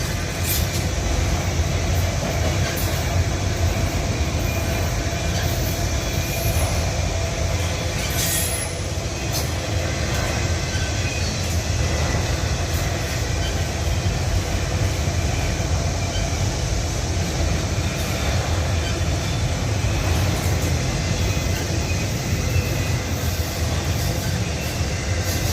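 A freight train of empty auto rack cars rolling through Abbeville, a loud, continuous rumble and clatter of wagons close by for the whole stretch, with faint wheel squeals and hissing brake sounds now and then.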